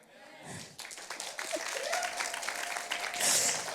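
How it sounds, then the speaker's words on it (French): A church congregation breaks into applause during a French-language sermon, clapping building after a spoken line and continuing fairly loudly, with voices and a raised shout near the end. "si on va donner une main d'applaudissement, là, on va donner une bonne"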